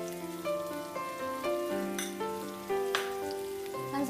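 Shredded cabbage with turmeric powder fries in a pan, making a soft, steady sizzle with faint crackles and a few brief clinks throughout, quiet and with no voices.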